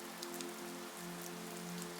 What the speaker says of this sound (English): the rain outside continues with its endless rhythmic patter against the glass and log cabin walls